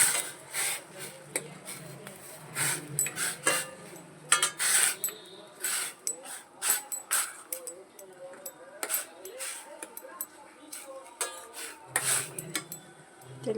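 A utensil stirs atta Maggi noodles and masala in a pot, giving close, repeated clinks and scrapes against the metal in an irregular rhythm.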